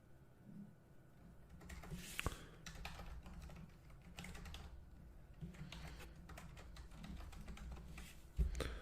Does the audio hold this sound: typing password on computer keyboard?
yes